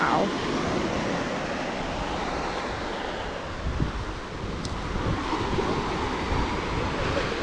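Waves roll onto the shell beach at Udupi Island, a steady broadband surf roar mixed with gusty wind buffeting the microphone, with no voices heard.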